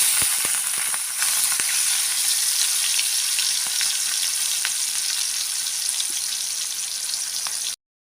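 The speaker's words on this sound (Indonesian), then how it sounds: "ini minyaknya sudah panas dan aku mau numis bumbunya" Garlic and shallot spice paste sautés in hot oil for a stir-fried mustard greens dish, giving a steady, loud, close sizzle with a few faint clicks that cuts off abruptly near the end.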